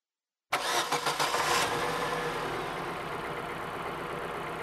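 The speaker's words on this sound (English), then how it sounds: "Start and idle the engine." A car engine cranks with a few rapid stuttering turns, catches, then settles into a steady, even idle that continues to the end.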